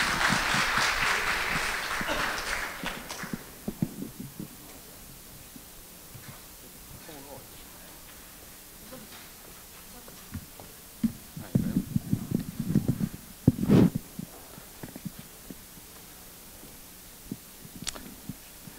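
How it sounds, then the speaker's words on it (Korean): An audience at a university business school presentation in Korea claps to welcome a professor, a short burst of applause at the start that fades into quiet and scattered talking. "박수로 한번 모셔보겠습니다"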